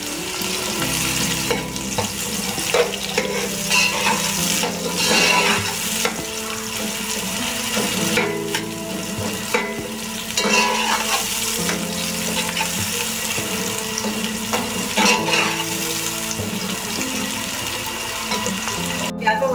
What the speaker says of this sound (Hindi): तेल गर्म करने के बाद हमने इसमें प्याज डाल के इसको फ्राई करेंगे।